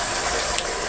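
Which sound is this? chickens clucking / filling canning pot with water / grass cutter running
filling canning pot with water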